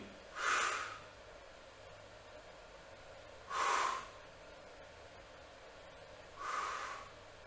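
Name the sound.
heavy breathing during exercise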